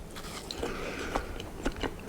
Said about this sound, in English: So let's get a little taste of that jam.